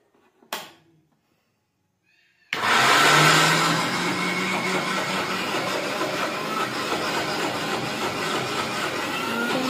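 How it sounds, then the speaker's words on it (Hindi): After a short click and a pause, a mixer grinder blending lentils kicks on loudly and keeps whirring steadily with a rough, grinding roar. "अब ये जा रहा है मिक्सी में"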